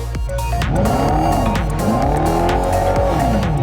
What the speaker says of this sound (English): Hear that roar? You don't have to sacrifice muscle car sound for the all-new electric Dodge Charger.